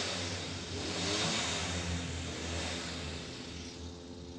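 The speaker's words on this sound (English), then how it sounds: "revving it up. We can hear that now." A Citroën 2CV race car engine revs at a 24-hour race at Snetterton, a buzzy mid-pitched drone that swells and eases under a broad wash of background noise, with no talk.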